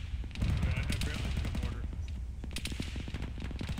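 Rapid automatic gunfire in a video game firefight, dense overlapping bursts close and loud with sharp repeated cracks throughout.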